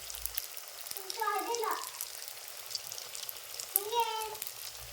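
Puris fry in hot oil at a roadside panipuri stall in Kalaburagi, giving a steady soft sizzle and bubbling under intermittent nearby voices.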